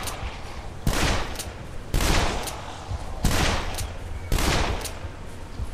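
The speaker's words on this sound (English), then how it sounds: "Since this revolver is at a very low level, I don't know how many shots it's going to take to get him" Four loud revolver gunshots from the video game Dead Island, fired in an even rhythm about one second apart. Each shot is a sharp, broadband crack that decays quickly.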